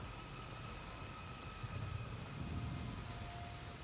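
Steady rain in the open-world game Days Gone, a continuous dense hiss of falling water with faint low rumble swelling slightly midway, no voices over it.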